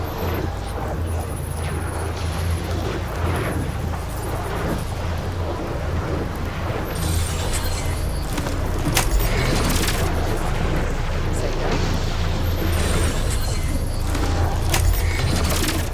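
A generator core bursting after being shot in Horizon Burning Shores, a deep rumbling boom that rolls on continuously with dense crackling debris, loud and close throughout, swelling again midway with heavy blasts and thunderous low roar.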